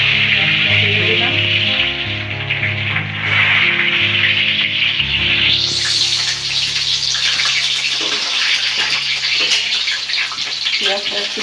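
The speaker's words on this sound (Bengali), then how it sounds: "পেঁয়াজটা একটু ভাজা ভাজা হবে।" Onions sizzle steadily in hot oil for a chicken curry, a continuous frying hiss that runs through the whole stretch beneath steady background music.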